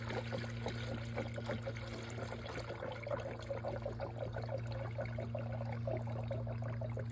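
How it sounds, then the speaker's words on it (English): Coolant pours steadily into the radiator of a fifth-generation Toyota 4Runner with a soft trickle and irregular gurgling bubbles of air escaping, fairly quiet, over a low steady hum. "Those bubbles are air getting out of the system."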